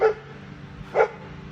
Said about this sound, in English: Maisie's barking